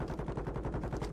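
Rapid gunfire in the Warzone 2.0 video game, a dense, steady burst of repeated shots filling the whole moment at close range with no talk over it.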